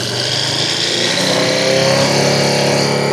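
A Ducati motorcycle engine held steady at 5,000 RPM, a loud continuous high-pitched drone with no breaks and no talking.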